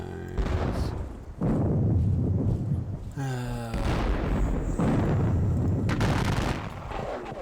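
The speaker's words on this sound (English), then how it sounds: "There's some artillery fire." Repeated heavy booming blasts of American Civil War cannon fire in a strategy video game of the Battle of Perryville, with rumbling low end, one sharp burst with a ringing tonal tail, loud and fairly close throughout.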